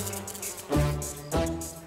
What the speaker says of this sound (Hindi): ये मच्छर मुझे क्यों काटते, तुझे क्यों नहीं?